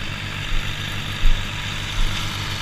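Tractor engine rumbling steadily as it drives over ruts left in a sweet corn field, a low continuous drone with three brief thumps and surges as the wheels drop through the ruts.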